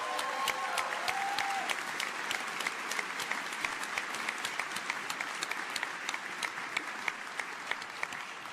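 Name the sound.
audience applause for hackathon winners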